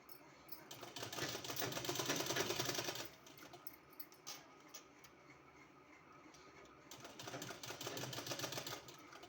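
Sewing machine stitching folded fabric for a kurti neck design: a fast, even mechanical rattle in two bursts with a quieter pause between, close and alone.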